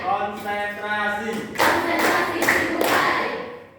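Classroom of students clapping in a concentration clapping game, broad bursts of claps in groups after a voice speaks at the start, fairly loud and close in a room.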